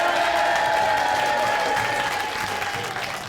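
A crowd at an outdoor bush poetry slam in Corryong in the Upper Murray cheers and applauds, a dense wash of clapping that fades slightly toward the end.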